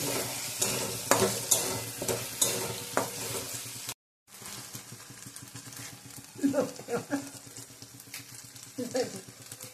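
Spice paste sautéed in oil for a lote fish dish sizzles steadily with repeated stirring scrapes, breaks off for a brief moment of silence, then carries on with louder scraping bursts.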